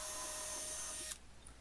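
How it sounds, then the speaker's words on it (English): A small power drill bores holes into the fret slot of a 1947 Gibson LG2 acoustic guitar, giving a steady high whine for about a second before it stops and leaves quiet room tone. "Then I have to drill two holes to allow the steaming needle to be inserted."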